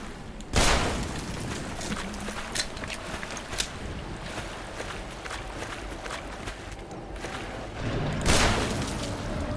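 Explosions go off in the game Black Mesa Blue Shift, two loud broadband blasts near the start and end over a rumbling, busy background of scattered gunfire-like bangs.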